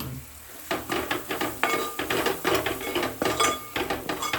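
Spices and chili powder sautéing in a pan for a squid fry, with a spoon scraping and stirring in a steady repeated rhythm over a soft background sizzle, close and moderately loud.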